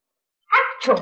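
A pet dog gives a single short bark with a brief follow-on yip after a moment of silence, close and fairly loud.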